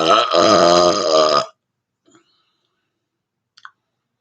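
A long, loud, drawn-out burp with a rich voiced rumble lasting about a second and a half, followed by near silence with a couple of faint small clicks.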